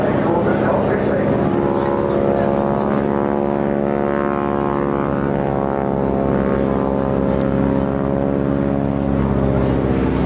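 A Swordfish propeller biplane flies over an air festival at Bournemouth, its engine a loud, steady droning roar that shifts slightly in pitch as it passes, with people talking over it.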